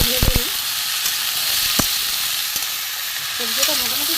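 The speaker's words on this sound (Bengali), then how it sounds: "পটল কুমড়ো আলু ছোলা একসাথে দিয়ে ভেজে নেব।" Pointed gourd, pumpkin, potato and chickpeas fry together in hot oil, giving a steady close sizzle with a few sharp scraping stirs near the start and again toward the end, no talking.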